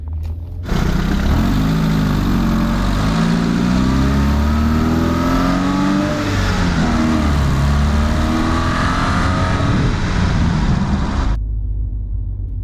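A 1996 Honda Prelude Si with a new clutch slave cylinder is driven hard on a test drive, the engine rising and falling in pitch through loud revs and gear changes, close and continuous, before cutting off abruptly.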